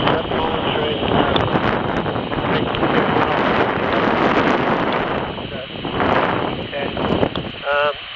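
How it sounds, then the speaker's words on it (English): Strong wind buffets a microphone on a windy hilltop slope in Derbyshire, producing a loud, continuous rumbling roar with gusty swells, while a faint voice comes through briefly near the end. "It's quite windy up here, so I hope you can hear me okay."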